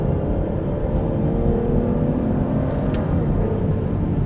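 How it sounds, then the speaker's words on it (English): A 2014 Aston Martin Vanquish engine runs with a steady, loud rumble that holds throughout. The tone is dense and low, with no clear rise or fall in revs. "And the noise, just can't get over the noise. Aston Martin sounds so great."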